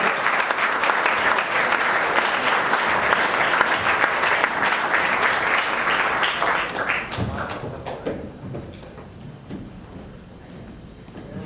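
Loud, dense crowd applause at a drum festival greets a drum line, holding steady for several seconds, then thinning into scattered claps and cheers as it fades.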